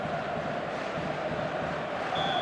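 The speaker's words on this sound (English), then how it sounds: "There's a real expectant buzz in the stadium" A football video game stadium crowd gives off a steady, dense murmur of expectant buzz at moderate volume, with distant voices blending and no single voice standing out.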